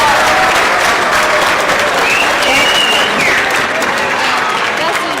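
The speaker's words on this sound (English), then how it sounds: "a very big round of applause" A large audience at an elementary school winter concert claps steadily and loudly throughout, a dense wash of applause with a few faint cheers mixed in.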